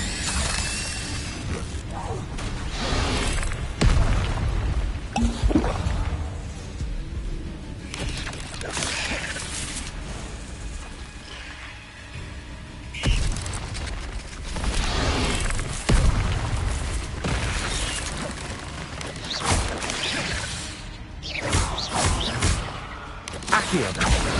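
Spells cast in Hogwarts Legacy, including the Incendio fire spell: repeated loud whooshing bursts and impacts over busy game sound, recurring every few seconds.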